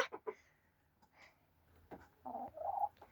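A few chickens cluck softly in short, scattered calls, quiet and close, with brief gaps of near silence between them.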